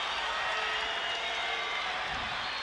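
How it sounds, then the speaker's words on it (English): A capacity crowd at a 1986 WWF wrestling arena roars in a sustained ovation, a broad steady wash of cheering and applause with no breaks. "What an ovation! What an ovation!"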